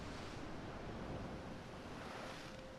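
Ocean waves used as a bed in a movie soundtrack score, a steady, dense wash of surf and wind rolling continuously at moderate level with no voices or music over it.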